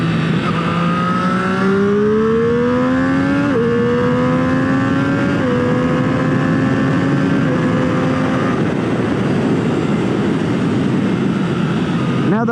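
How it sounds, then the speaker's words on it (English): A 2021 Triumph Street Triple R motorcycle accelerating on a night road: loud engine whine climbing in pitch through several gear changes, with strong wind rush and a sharp drop as the revs fall near the end. "I'm gonna have to cut to a future video where we really do an acceleration test on this bike"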